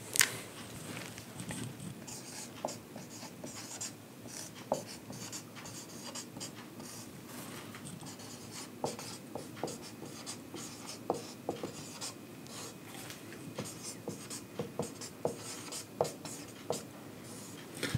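Pen writing a heading on paper, a steady scratchy scrawl of strokes and taps running throughout at close range, with no voices.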